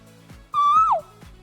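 A person vocally imitates an owl-like uwu bird call: one clear, loud whistled hoot held steadily and then sliding down at the end, close to the listener, with quiet breathy background around it.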